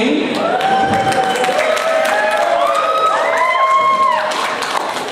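A comedy club crowd at an anime convention applauds and cheers loudly and steadily, with scattered whoops and shouts rising above the clapping.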